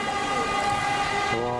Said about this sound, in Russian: Вот поезд идет в Сочи.